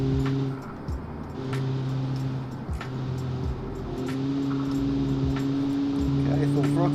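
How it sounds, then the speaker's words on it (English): A 1956 car engine in a racing game held at full throttle, a steady droning tone with stable harmonics over several seconds, with someone talking over it throughout. "Okay, full throttle."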